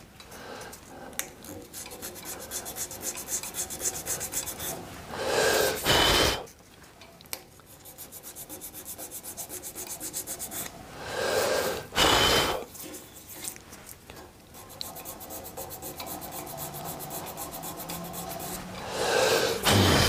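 A wooden shaving brush handle is dry sanded by hand with folded sandpaper in repeated rubbing strokes, broken by a few louder bursts of brisk scraping, close up and with no talking.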